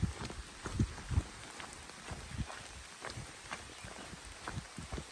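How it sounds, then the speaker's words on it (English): Rain falling on a wet trail in the Appalachian woods, a steady soft patter with a few louder close drops and thumps scattered through it. "Oh, I think here comes the rain."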